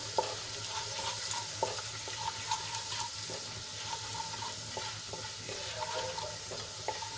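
Gram flour sautéing in ginger, garlic and chili paste makes a continuous close sizzle, with faint, regular scraping from stirring running through it.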